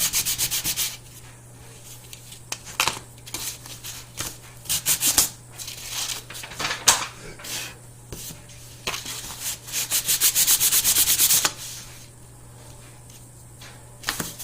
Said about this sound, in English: But a little bit of sanding,